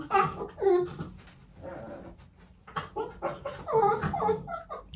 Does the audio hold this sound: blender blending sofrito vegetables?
no